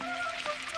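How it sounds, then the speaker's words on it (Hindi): Heavy rain falls in a Doraemon cartoon, a brief, steady patter of drops under a faint tonal background, with no talking. "अरे ये तो पहले से भी ज्यादा बारिश हो रही है।"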